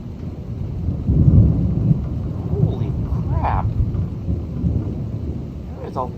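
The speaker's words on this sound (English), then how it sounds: "It's like this constant rumble of thunder. It's not stopping." Deep, rolling thunder swells loudly and keeps rumbling through a summer storm, with rain and wind beneath it and a couple of short vocal exclamations breaking in.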